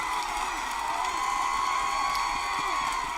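A crowd at a high school football game, where the Lugoff-Elgin Demons are playing, roars in a sustained, dense wall of cheering and shouting that stays loud and even throughout, with no distinct individual voices.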